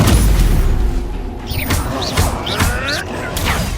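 Spell-casting combat in Hogwarts Legacy: a loud, busy run of magical impacts with several sharp whooshing crackles and thuds at irregular intervals over steady rumbling game audio, with some voice in the mix.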